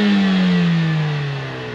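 Heard from outside, a 2020 Mercedes-AMG CLA45's 4-cylinder engine revs loudly and close by, its strong droning note sliding steadily downward in pitch as the revs fall over under two seconds.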